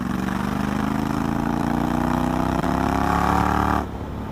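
A 2019 Honda X-ADV 750 motorcycle fitted with an R9 exhaust roars close up with a deep, steady rumble under full throttle, then drops off abruptly near the end.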